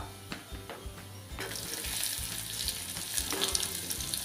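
Chopped onion drops into a pan of frying garlic for momo vegetable filling: a few soft knocks and thuds at first, then the sizzle swells into a bright, continuous hiss with light stirring, close by and without speech.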